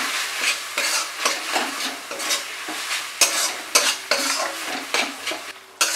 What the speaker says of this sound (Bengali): মশলা কষানোর সময়ই নারকেল কোড়াটা দিয়ে দিলাম।